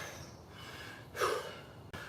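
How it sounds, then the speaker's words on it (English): A single heavy exhale, something like a gasp or sigh, from someone catching their breath after a bodyweight interval workout, fairly faint against quiet room noise. "breathing"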